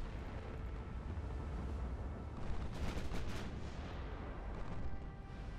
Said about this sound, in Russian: Эсминцы дали залп.